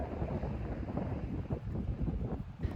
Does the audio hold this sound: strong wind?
yes